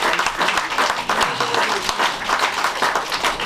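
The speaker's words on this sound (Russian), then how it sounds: "Ваши аплодисменты." An audience at an author's song performance in a small concert club applauds, a moderately loud, steady round of clapping lasting a few seconds.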